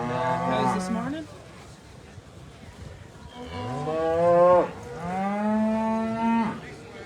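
Charolais cattle low several times at a livestock show judging, with a short moo followed by two longer, louder drawn-out calls close by.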